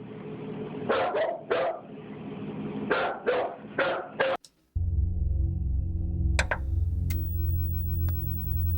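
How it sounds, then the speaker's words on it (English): A dog barks in two quick bursts of several sharp barks each, close and fairly loud, then the sound cuts to a different recording with a low steady hum and a few clicks. "cause that dog's barking"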